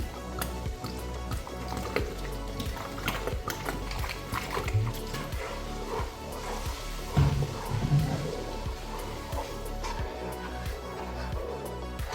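Vinegar poured from a large bottle into a big jar of salmon fish pickle, a steady liquid splash and trickle with irregular drips and container knocks, fairly close and moderately loud.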